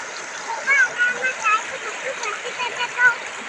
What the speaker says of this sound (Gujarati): આ છે સાબરમતી નદી જે અમદાવાદ જાય એ સાબરમતી